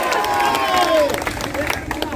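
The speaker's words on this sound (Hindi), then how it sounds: "नौजवानों का जोरदार ताली" A large crowd of young people at a political speech claps and cheers loudly, with whistles and excited voices mixed into a dense, continuous roar that eases slightly toward the end.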